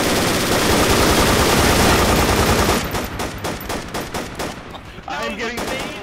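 Heavy machine gun fire in Battlefield 2: Project Reality during a bridge assault: a loud, dense stream of shots for about three seconds, then a run of sharp, separate bursts that trail off.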